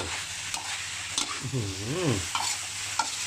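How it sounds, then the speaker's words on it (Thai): Curry paste is stir-fried with long beans, bird's eye chilies, kaffir lime leaves and pork belly in a pan, giving close scraping stirs and a soft sizzle. A few sharp spatula knocks come through, with no talking. "ทีนี้ก็ผัดเลย กาผัดให้เครื่องแกงเนี่ยมาเคลือบเคลือบตัวบักยา"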